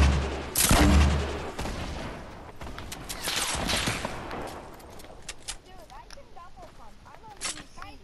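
Gunfire and explosive bursts from a grenade launcher in Fortnite, a loud rapid volley at first and then scattered shots and clicks as players talk over it.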